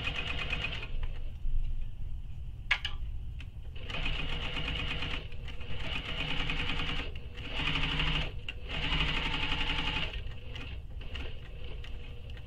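Sewing machine stitching fabric for a shoulder bag, running in steady bursts of rapid mechanical whirring with short pauses between runs, close and clear, with no talking.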